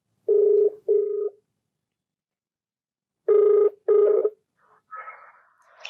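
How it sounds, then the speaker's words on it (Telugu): A telephone ringback tone sounds while a call is being placed, in two double-ring bursts separated by a pause, followed by a brief, fainter sound from the line. "మరి నేను కాల్ చేయమంటారా?"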